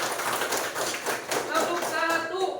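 A class claps hands together during an Indonesian lesson on electrical energy, bursts of sharp claps in rough bunches with voices mixed in, a tonal voice rising toward the end.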